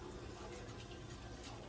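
Water poured into a pot of rice with vegetables for cooking, a faint steady splashing fill, heard close and quiet with no talk over it.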